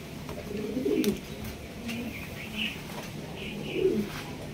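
Large black Roman gal pigeons coo in low, repeated bursts from a pigeon sales pen, with a faint wing flutter and no talk over them.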